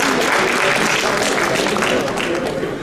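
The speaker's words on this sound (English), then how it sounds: "Let's give him a round of applause as well." An audience at a US Council of Muslim Organizations fifth anniversary event applauds, a dense, steady wash of clapping that stays loud throughout.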